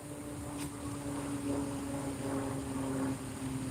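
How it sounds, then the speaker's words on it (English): Low, steady drone of an airplane passing overhead, a distant continuous hum with faint tonal lines that swells gently and stays even throughout, without speech. "I'm gonna allow this plane to pass by."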